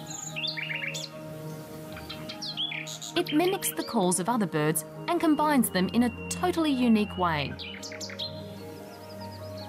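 A nightingale, a bird that mimics other species' calls and weaves them into original song, sings in short chirping phrases at the start and end, with someone narrating over the middle stretch.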